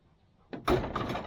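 A cab door on a TYM T574 tractor swings and shuts with a single close, solid thud, followed by a brief rattling settle; no talk.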